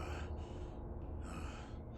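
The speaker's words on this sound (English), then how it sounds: "Hesitant and heavily breathing" Heavy, hesitant breathing from a lone figure entering a dark cave in a Batman audio drama, continuous and close over a dull low rumble, with gasping intakes and no talk.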